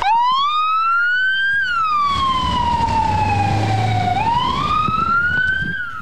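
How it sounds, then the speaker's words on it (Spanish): An ambulance siren wails loud and close as the emergency ambulance pulls away, its tone sweeping slowly up and down over the low rumble of the vehicle. "La ambulancia del SEME sale rumbo al grupo aerotáctico de Luque."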